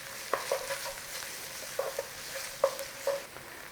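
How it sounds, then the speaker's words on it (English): Tomato paste being stirred into pork frying in a single pan: a faint, steady sizzle broken by a few sharper scrapes and taps of the spoon, heard up close with no talking. "Couple of tablespoons of tomato paste. Nice little stir in."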